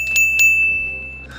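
A short jingle bell sound effect with bright metallic chimes, two quick shakes at the start followed by a sustained ringing tone that fades out.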